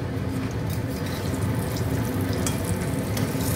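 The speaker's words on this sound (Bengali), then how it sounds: "কড়াইতে দিয়েছি, ভাজা শুরু করেছি আমি" Pea-stuffed kachori frying in oil in a kadai, a steady dense hiss and bubbling sizzle, close and continuous with no talking.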